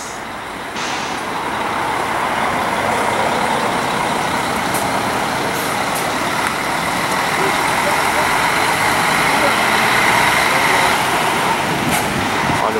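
A Salutares coach arrives from Raul Soares at São Paulo's Tietê bus station on the New Year holiday, its steady diesel rumble blending with constant terminal traffic noise and a murmur of voices throughout.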